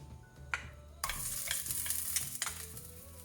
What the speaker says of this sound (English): I like that sizzling sound.